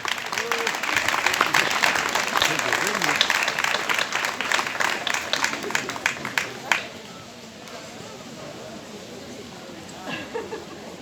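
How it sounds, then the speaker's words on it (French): An audience applauding Daniel Marchetti at a charity event: dense, sustained clapping for about seven seconds, then it thins out and fades, with a voice speaking over the later part. "Alors on peut l'applaudir aussi."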